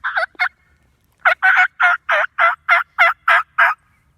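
Wild turkey gobbling during a spring turkey hunt, two quick calls then a long run of about nine rhythmic, evenly spaced gobbles, loud and clear over a quiet outdoor background.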